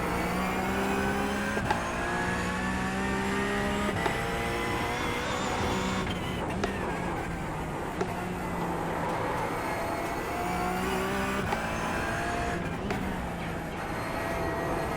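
Race car engine in a racing simulator game, climbing through gears under steady throttle uphill with layered harmonic engine tones, continuous and fairly loud, with brief shift dips and no talk.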